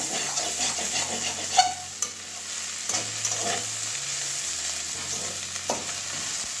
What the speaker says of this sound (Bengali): গরম মশলাটা ভালো করে মিশিয়ে মানে ভালো করে মিশিয়ে দেবো